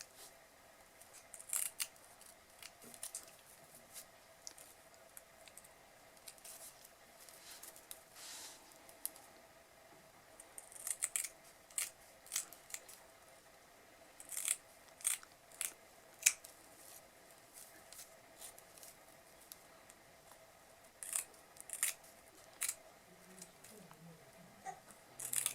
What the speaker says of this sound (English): Just cut little triangles out.